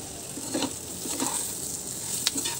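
Fried potatoes are tipped into a sizzling pan and stirred for aloo dopyaza, giving a close frying hiss with a few scraping, clattering stirs.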